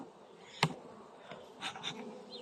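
Caucasian honey bees at a hive with large-frame boxes, recovering after a weak winter, give a faint, soft buzzing, broken by one sharp click early and a few passing louder hums from bees flying near.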